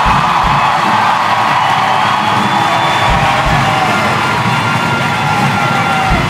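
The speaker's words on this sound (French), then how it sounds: "Donc on peut applaudir très fort la chorale des Corrèzes !" A loud crowd cheers, whoops and applauds for a middle-school choir at a big musical show, a dense continuous roar with children's shouts rising above it throughout.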